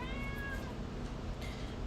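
Kittens meowing in a short run of thin, high-pitched mewing cries over a steady low background hum, fairly faint and with no voices.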